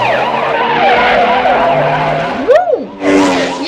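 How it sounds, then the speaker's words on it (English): A dirt bike skids and revs during a film motorcycle chase, with sirens wailing alongside it: a loud, close, swooping engine whine ending in a sharp burst of tire and dirt noise. "Oh my god, we're really about to have a motorcycle chase."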